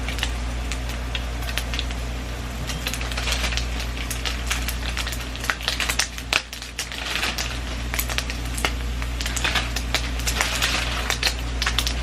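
Turkey bacon sizzling and crackling in a skillet on a breakfast stovetop, a steady close frying hiss with dense ticking pops throughout, no talk.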